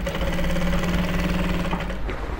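A sewing machine top-stitches fabric in a continuous, close, steady mechanical whir that falters briefly near the end, with no talking.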